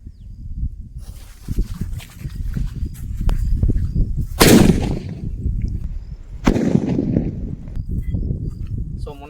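Kannan brand Sivakasi firecrackers go off outdoors with two sharp cracks a couple of seconds apart. The bangs are modest rather than loud, with background noise and faint clatter around them.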